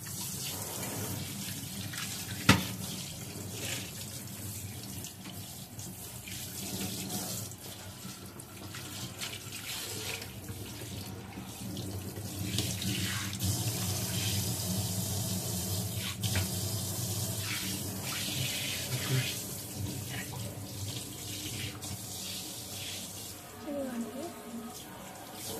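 Tap water running into a sink during washing, a steady, moderately soft hiss and splash that continues throughout with occasional clinks and faint background voice.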